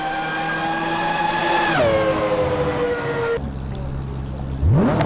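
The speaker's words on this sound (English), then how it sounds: "Hope you enjoyed those engine sounds." A race car engine in the Assetto Corsa game, heard up close and loud as it holds a steady high whine, drops sharply in pitch as the car downshifts, cuts off briefly, then revs back up near the end.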